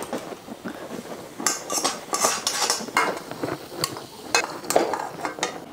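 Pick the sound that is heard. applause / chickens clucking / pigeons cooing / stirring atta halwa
stirring atta halwa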